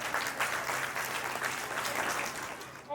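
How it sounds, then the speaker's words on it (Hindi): An audience claps to welcome Haryana folk performers at a patriotic cultural stage program, a lively crowd of hands swelling and rippling steadily for a few seconds without any voices on top. "जोरदार तालियों से स्वागत कीजिए उनका"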